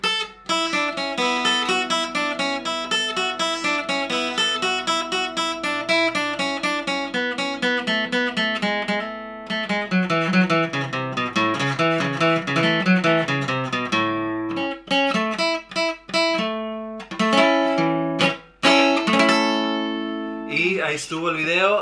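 A requinto guitar plays the drum intro of a song as a long run of quick, bright plucked notes, dense and rhythmic throughout, close and steady, with brief pauses near the end.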